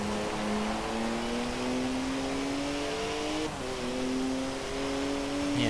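Car engine in the Forza Horizon 4 racing game droning steadily with a thin, unsporty tone, pitch climbing slowly then dipping briefly at a gear change before rising again, close and continuous with no talk.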